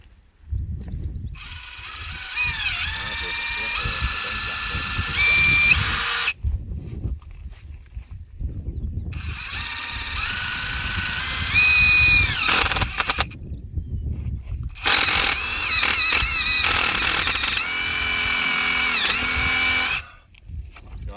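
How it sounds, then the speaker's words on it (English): A power drill bores through a wooden fence post, whining in three long runs broken by short pauses, its pitch dipping as it bites into the wood, loud and close. "drill all the way through"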